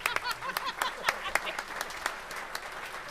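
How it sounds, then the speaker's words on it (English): An audience at a valor award ceremony applauds, a dense wash of hand claps with some louder individual claps near the front, steady for several seconds, with faint voices underneath. "Round of applause for Joan Porter."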